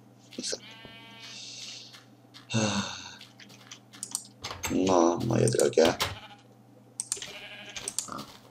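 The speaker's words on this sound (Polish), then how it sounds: "Dawajcie nową owieczkę." Minecraft sheep bleating several times, mixed with computer keyboard typing and a steady background hum, while a person speaks between the bleats.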